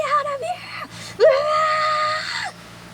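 A high, wavering scream rises, breaks off briefly, then returns as a long, loud, strained shriek that cuts off sharply, close and intense, with a faint low hum underneath.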